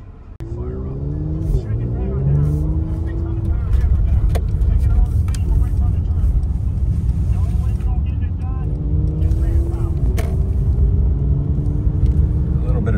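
Mercedes GLC43 with the M276 engine driving in Sports Plus mode, a loud continuous engine drone from inside the car with rising and falling pitch as it shifts through gears.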